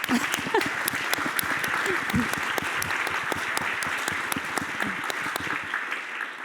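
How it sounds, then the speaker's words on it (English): Enthusiastic applause from a sizable keynote audience, dense and continuous, with scattered cheers and voices before it fades at the end. "let's get a round of applause for that"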